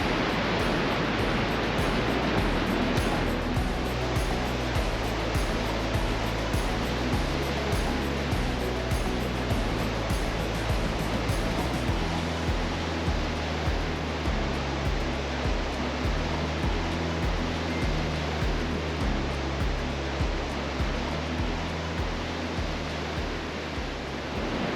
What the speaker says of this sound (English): This is the Blumenthal Falls here on a short sand beach in Oswald West State Park.